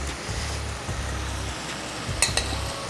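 Ghee going into palak chicken cooking in a pan, a moderate sizzle with low rhythmic scraping from stirring and a couple of brief sharp clinks near the end, no talking.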